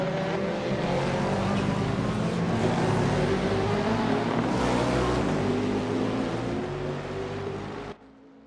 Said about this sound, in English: Now we have a lot of GT3 action as well as the hypercars.